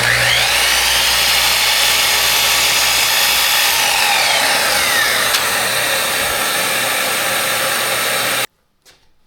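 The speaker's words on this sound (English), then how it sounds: "drop it into the crosscut saw and just make my accurate cuts" A crosscut saw slices through laminated plywood for bench frames in a workshop, giving a loud, steady whining cut that holds for about eight seconds before stopping abruptly.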